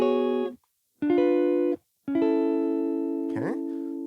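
Gospel guitar chords voiced up the octave ring out as three sustained, clear strums separated by short silences, with a bright sliding accent near the end.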